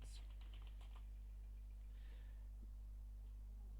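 Someone types on a computer keyboard, making a quick flurry of soft, faint key taps at the start that fade into a quiet, hum-filled room.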